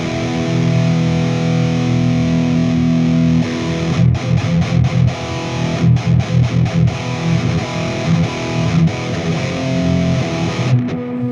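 Heavily distorted electric guitar through a Bogner Red V amp model on a Valeton GP-200X multi-effects processor chugs and rings out with a thick, saturated tone, sustained chords broken by tight palm-muted stabs; no talking.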